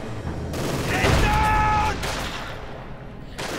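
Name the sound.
machine gun fire in video game Company of Heroes 2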